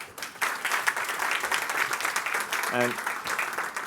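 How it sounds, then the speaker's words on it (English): An audience at a design keynote summit claps steadily throughout, a dense, sustained round of applause in a large room, with a voice briefly audible in the middle. "So give yourself a round of applause."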